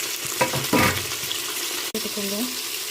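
Onions sautéing in a pan for biryani, a steady frying sizzle with a few stirring scrapes and clinks, fairly close, with brief voices.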